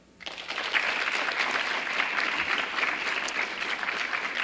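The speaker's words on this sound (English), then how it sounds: "So what I'd like to do, students, is to give your family a round of applause, because certainly they deserve it." Audience at a high school National Honor Society induction ceremony breaks into applause, rising quickly from quiet into a dense, sustained clapping of many hands that stays steady and fairly loud throughout.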